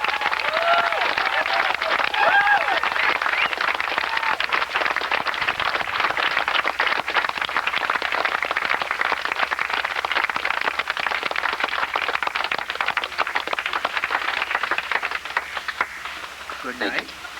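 Audience at a 1996 Narcotics Anonymous gathering at Camp Silverton applauding for someone, sustained dense clapping on an old tape, with voices and crowd murmur mixed in before it tapers off.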